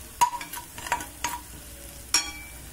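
Food fries in a pan with salt added, with a soft background sizzle and several sharp scraping stirs of a utensil, loud and close, in a quiet kitchen without talk.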